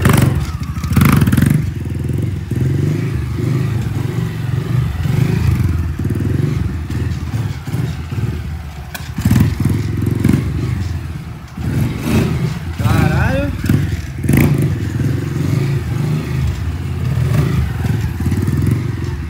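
A new motorcycle engine runs loudly up close, with repeated revs and throttle blips over a rough idle, along with occasional clatter and thumps.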